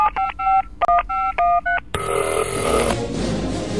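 A telephone keypad is dialed in a quick run of loud, crisp beeping tones, each separated by short gaps, then a sustained, denser electronic tone takes over for about a second before fading into a steady hiss.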